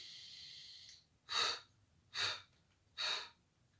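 Three deep, airy breaths during a Pilates movement class, evenly spaced about a second apart, close to the microphone and otherwise quiet, with no talking.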